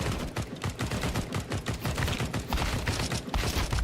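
Rapid gunfire from bots in a video game, dense bursts of automatic shots rattling continuously for several seconds, loud and busy, with no voices.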